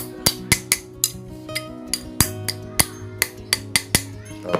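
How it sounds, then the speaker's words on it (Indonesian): A hammer taps on a metal part of an electric fan being repaired, about a dozen sharp ringing knocks in an uneven rhythm, close up with no talking. "Setelah ini sobat tinggal ambil palu ya"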